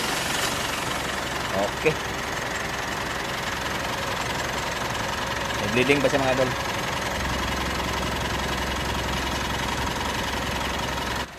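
The diesel engine of a 2022 Mitsubishi Strada pickup truck idles steadily throughout after EGR cooler, intake and throttle cleaning, a low continuous rumble, with someone speaking briefly over it near the start and middle.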